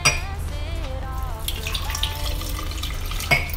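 Water pours into a flower vase for fresh flowers, a steady splashing trickle with gurgling, bubbly tones throughout and a brief clink near the end.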